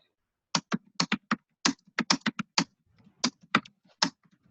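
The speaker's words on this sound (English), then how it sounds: "somebody's typing away" Computer keyboard typing heard alone at close range: irregular bursts of sharp key clicks, about twenty strokes in quick clusters with short pauses between, fading to a few light taps at the end.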